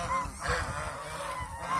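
Several geese honking close by in a loose, overlapping chorus, steady and fairly loud with no voices.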